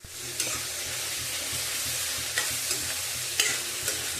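Onion frying and being stirred into garlic masala paste, a steady hiss of sizzling with a few soft scrapes of a spoon against the pan, close and continuous.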